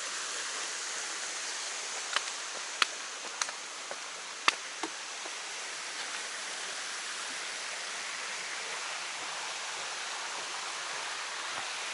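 Small waterfall on a stream along the Foothills Trail, a steady, moderately faint rushing hiss with a few sharp clicks early on and no voices.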